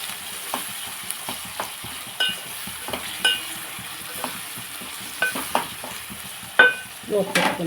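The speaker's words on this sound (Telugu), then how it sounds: "ఇప్పుడు టమాటాలు వేసేస్తాం శుభ్రంగా టమాటాలు కూడా మగ్గిపోయేలాగా" Tomatoes hit a curry pan of softened onions and fry with a low continuous sizzle, punctuated by frequent light spoon clicks and stirring scrapes, growing busier toward the end.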